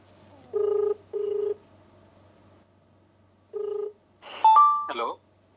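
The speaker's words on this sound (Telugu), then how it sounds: "ఓకే, రింగ్ అవుతోంది." An outgoing phone call rings on the line with three short electronic ringback tones separated by pauses, followed by a brief burst of voice at the end.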